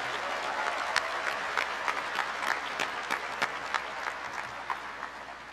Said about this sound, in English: Please join me in giving them a warm round of applause for all their help they have given you along the way.